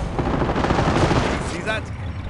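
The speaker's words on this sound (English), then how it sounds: "Under heavy enemy fire!" Dense battlefield gunfire from the World War II strategy game Company of Heroes, Operation Market Garden mission, a loud continuous rattle of shots and blasts with in-game voices calling out over it.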